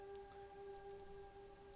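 Rainfall in the video game Disco Elysium, a soft steady patter of raindrops heard quietly and evenly throughout, with faint sustained tonal notes of the game's ambient music underneath.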